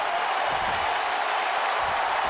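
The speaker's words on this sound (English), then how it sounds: "The crowd loving Seth Rollins." Arena crowd at a WWE Raw wrestling event cheering and applauding, a dense roaring wash of clapping and shouting that stays loud and steady throughout.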